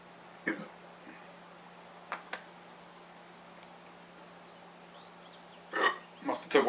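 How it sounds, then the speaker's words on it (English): A man hiccups during a cigar review, producing several short, abrupt throat bursts separated by quiet pauses, with a tight cluster of louder ones near the end. "Besides the fact that I have the hiccups all of a sudden."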